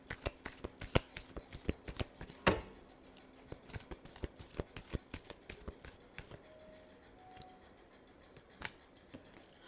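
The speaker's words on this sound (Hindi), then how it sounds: "Last shuffle." Tarot cards being shuffled by hand, a rapid run of crisp riffling snaps and soft patters, close and fairly quiet, with no talking.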